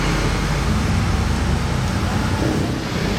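Steady street traffic on a Monaco road as an Aston Martin Cygnet approaches head-on, a continuous broadband road and engine wash at moderate level.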